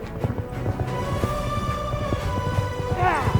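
Horses' hooves clip-clop steadily under a low musical drone as thieves ride back, a story sound effect, with a rising swell near the end.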